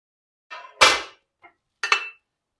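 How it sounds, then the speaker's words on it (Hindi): A metal spoon clanks against a cooking pot while mutton yakhni pulao is served into a dish: four short, close clatters separated by brief silences, with no talking. "अब मटन यखनी पुलाव के दम का टाइम कंप्लीट हो चुका है, तो आइए अब हम मटन यखनी पुलाव को डिश में निकाल लेते हैं।"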